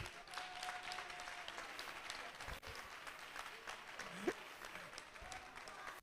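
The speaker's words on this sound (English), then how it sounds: "keep on clapping for him" Faint, distant audience clapping at a primary health care board tutorial class gathering, continuous and steady, with scattered voices in the background.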